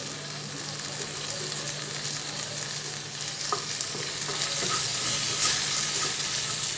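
A spiced egg mixture with chilli powder and turmeric fries in a pan, giving a steady close sizzle broken by occasional scraping stirs.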